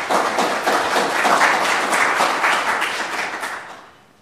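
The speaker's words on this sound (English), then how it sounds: "I see you're clapping too early." A crowd applauding steadily, a dense wash of many hands clapping that tapers off toward the end.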